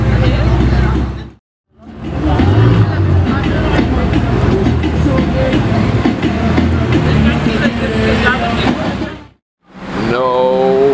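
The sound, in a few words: Ferrari 488 Pista with straight pipes driving by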